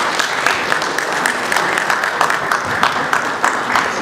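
A gala dinner audience gives a round of applause, steady loud clapping filling the entire moment with slight swells, no talking over it.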